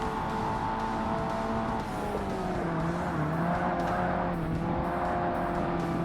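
A Volkswagen race car in the Forza Motorsport video game holds a steady engine drone with shifting pitch, a constant hum of revs and faint tire noise through the whole stretch.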